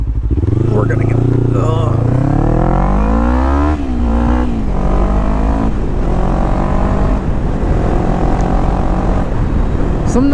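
A motorcycle rides along a road on a bright fall morning, with a loud, steady engine drone that rises through the gears against constant wind rush, and a rider's voice over it.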